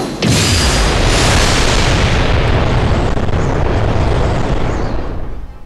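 Lunatic Boom special attack in the video game Sakura Wars, a loud, sustained explosive roar that starts abruptly and stays dense and powerful for several seconds before easing slightly at the end.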